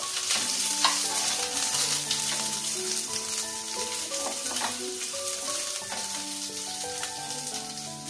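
Sliced onions sauté in a pan with a steady, close sizzle and a few soft stirring scrapes, while faint sustained musical tones run underneath.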